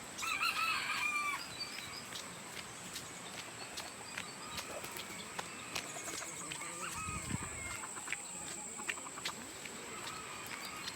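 Roosters crow in a rural hillside setting, one close call at the start followed by fainter crowing and clucking from farther off, with people talking and ambient outdoor noise.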